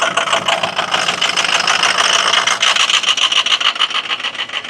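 A 6.0 Powerstroke diesel in a high-mileage Ford Excursion idling roughly right after a cold start, a loud, dense, steady rattling clatter close by with no talking.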